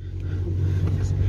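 Car engine revving with a low rumble that swells as the vehicle pulls away, fairly close, with people talking faintly underneath.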